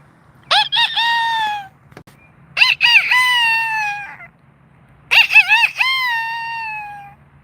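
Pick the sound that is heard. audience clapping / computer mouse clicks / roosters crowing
roosters crowing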